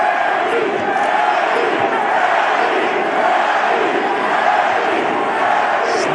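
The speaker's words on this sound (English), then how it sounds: "Just listen to that crowd." A boxing arena crowd roars steadily and loudly through the Pacquiao vs Barrios fight, a dense wall of cheering and shouting, with a commentator's voice faintly over it.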